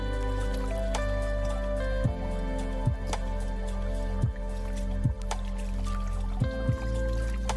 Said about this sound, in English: we pour everything back through the filter one more time and wash it thoroughly with clean water